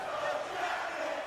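Crowd at an ice hockey video game match, a dense wash of arena cheering and roaring that holds steady and fairly loud through a brief moment with no pauses.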